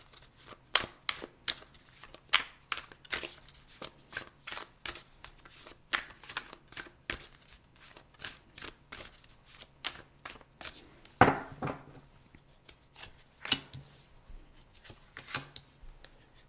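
Tarot cards are shuffled by hand at close range, giving a long run of quick, crisp riffling and slapping bursts in an irregular rhythm, with a louder flurry midway and no voices.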